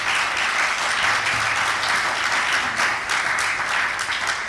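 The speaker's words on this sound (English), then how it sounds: "Shall we give them a round of applause?" An audience at an actuarial congress session applauds in a thick, continuous wash of clapping, loud and sustained throughout with slight swells, and no speech on top.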